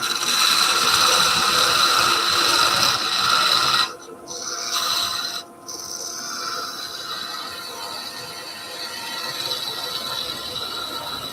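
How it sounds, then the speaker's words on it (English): A workpiece is parted off on a spinning wood lathe. The cutting gives a continuous loud, rough grinding drone with two brief dips where the tool lifts, then a steadier hum. "We're going to part off on the lathe, so still secure."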